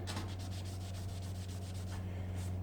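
A cloth wipes grime off a GSXR750 motorcycle steering head with steady, close rubbing strokes in a brisk back-and-forth rhythm, set over a constant low electrical hum.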